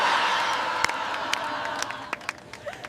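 Crowd cheering and clapping with scattered whoops, a dense roar that fades slightly across a few seconds while sharp individual claps pop out near the end.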